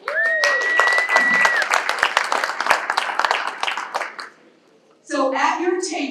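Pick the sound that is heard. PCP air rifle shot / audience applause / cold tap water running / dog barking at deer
audience applause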